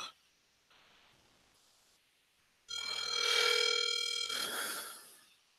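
A telephone call being placed: faint tones and clicks, then a loud, steady ringback or dial tone that holds for about two seconds before breaking into a harsher burst and fading.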